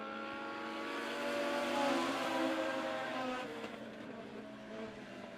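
Legends race cars lap a speedway in a heat race, a distant blended engine drone rising and then fading as the pack rounds the turns, fairly faint with no close voices.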